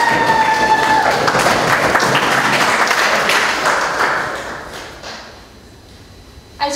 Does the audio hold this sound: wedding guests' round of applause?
yes